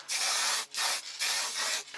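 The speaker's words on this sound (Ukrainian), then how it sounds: "а тепер красимо з балончика" Paint hisses from an aerosol spray can in three long, steady bursts with short gaps between, close and loud, during a car refurbishing job.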